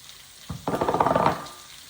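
Vegetables and garlic (celery, onions, carrots) hit hot bacon fat in a soup pot, bursting into a sudden loud sizzle that swells with rapid crackling, then fades to a quieter simmer.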